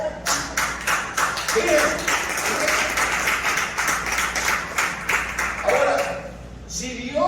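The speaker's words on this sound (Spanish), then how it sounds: "Un aplauso, pues." Audience clapping in a church service, a steady run of claps lasting several seconds with a preacher's voice speaking over and around it.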